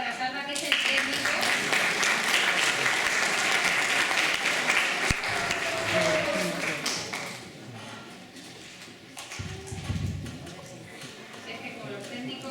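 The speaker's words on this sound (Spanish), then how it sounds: "un fuerte aplauso para Salva, que es el técnico" Audience applause for Salva, the technician, at a children's storytelling show, steady clapping that fades midway, with voices talking over it and a few thumps near the end.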